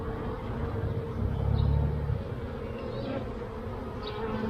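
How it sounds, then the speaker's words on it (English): Bees buzz around an open hive during a beekeeper's inspection, a steady close drone with a brief louder swell in the middle. "I'm recording a video and talking to the bees."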